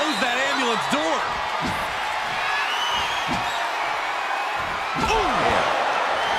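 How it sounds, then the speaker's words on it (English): Ambulance door slammed shut during a WWE match with three wrestlers: several heavy thuds rise over a lively arena crowd, with voices talking and reacting throughout. "Stuff them in and close that ambulance door."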